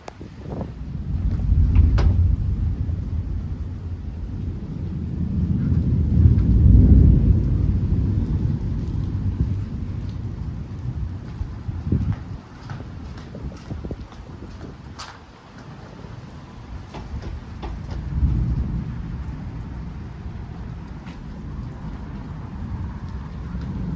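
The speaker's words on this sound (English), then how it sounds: "And it's raining." A severe thunderstorm with high winds and lightning in Frisco, Texas: steady rain pours while deep rolling thunder swells and fades several times, loud and close, with no talking.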